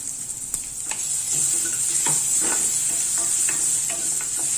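Ginger, green chili and garlic masala paste sizzling in a pan while a spoon scrapes and stirs it in repeated close clinks and scrapes over a steady fry.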